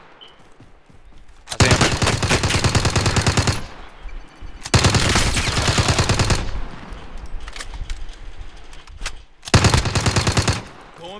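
Automatic weapon fire in the video game Warfare rips out in three loud, sustained bursts separated by quieter gaps, with a player's voice speaking briefly in the lulls.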